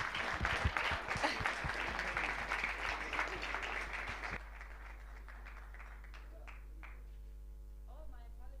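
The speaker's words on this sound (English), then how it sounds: "Please do give him a round of applause" Audience applause at a global CEO summit for a central bank governor's keynote, a dense wash of clapping that fades out midway, leaving steady mains hum with faint scattered claps and rustles.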